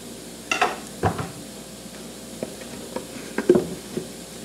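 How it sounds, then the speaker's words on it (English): Garlic sautéing in a skillet, a faint steady sizzle under a few brief stirring scrapes and utensil clinks, close and quiet. "I'm going to add a decent amount of garlic"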